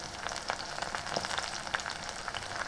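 Curry leaves crackling and spluttering in hot oil after sliced onion for a Kerala prawn curry, a dense run of small close pops over a steady sizzle, with no talking.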